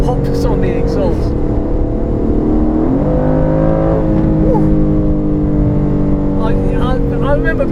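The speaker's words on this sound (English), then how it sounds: "you got the pops on the exhaust" A Porsche Cayman GT4 engine revs up and settles over a steady exhaust drone, with crackling exhaust pops near the end and people talking over it.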